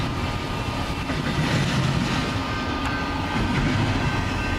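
A westbound BNSF train passes close by on a Montana line, a steady, loud rumble of rolling cars with faint clicking of wheels over rail joints.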